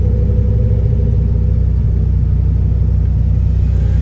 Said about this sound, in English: I'm not used to the sound of a V10 engine